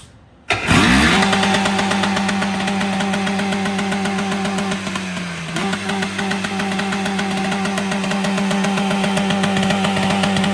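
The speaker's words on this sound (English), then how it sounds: "You guys ready to hear this thing ping?" A jet ski engine fitted with a hood stack cranks and roars to life, then holds a loud, buzzing high idle with a brief dip and rev partway through; no talking.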